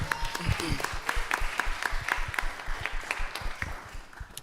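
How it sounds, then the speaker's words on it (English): An audience applauds at a film exhibition event with a steady patter of many hands clapping, moderately loud and continuous throughout, with no voices over it. "Can we clap it up for that?"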